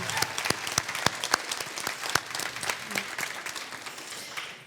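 Audience in a lecture hall breaking into applause, a dense, sustained burst of many hands clapping at close range, tapering slightly toward the end.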